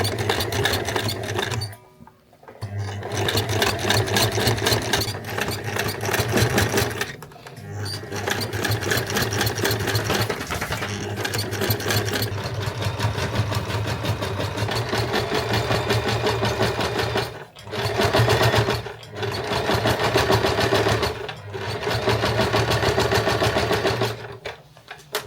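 Sewing machine stitching a seam along binding on a lightweight reversible jacket, a loud close steady motor whir in several long runs separated by short pauses, with no talk.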